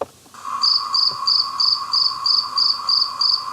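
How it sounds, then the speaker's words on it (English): Crickets chirp in steady, evenly spaced pulses over a continuous insect drone, close and fairly loud, with no voices present. "Again, crickets."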